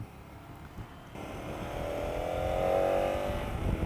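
KTM Super Adventure S motorcycle engine droning steadily and swelling louder as it accelerates, heard from the saddle with broad wind and road rush, no talking.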